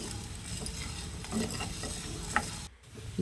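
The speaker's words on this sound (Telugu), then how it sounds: "ముందుగా ఒక ప్యాన్ పెట్టుకొని జొన్నల్ని వేయించుకుందాం." Sorghum grains roast in a pan with a steady dry sizzle and soft stirring scrapes, close and continuous, ending with a brief pause.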